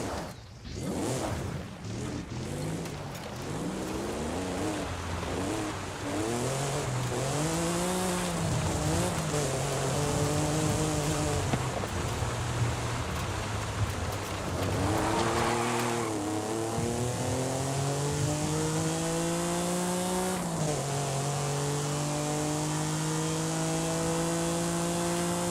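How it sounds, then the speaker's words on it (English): A stock 2005 Honda NSX in Forza Horizon 5 revs hard through repeated gear changes, its engine note climbing in rising harmonic sweeps, loud and close, with some tire noise and no talk. "This is a bone stock 2005 Honda NSX."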